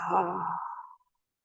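A single deep breath let out as a close, audible sigh, voiced at first and then trailing into a breathy fade before silence.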